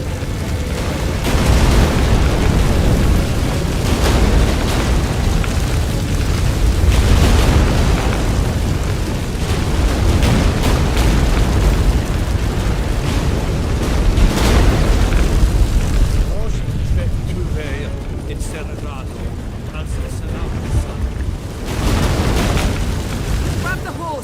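A heavy, continuous earthquake rumble shakes through a Witcher 3: Wild Hunt game scene, loud booming and crashing surges rolling on throughout, with character voices speaking over parts of it.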